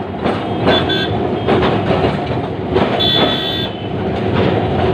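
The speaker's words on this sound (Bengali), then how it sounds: "খুবই ঘর ঘরে আওয়াজ" A Kolkata tram crossing an all-iron flyover, loud continuous rattling and clanking rumble with jolting bursts, close by, with a brief horn-like toot partway through.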